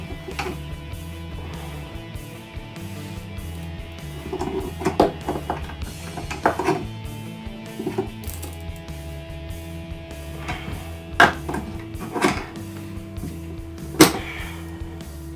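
A seized, rusted ceiling fan bearing is forced out with a clamp, making irregular metallic creaks, ticks and sharp clicks over a steady low background hum.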